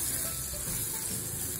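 Onion frying in hot oil in a pan, a dense continuous sizzle heard close and steady throughout.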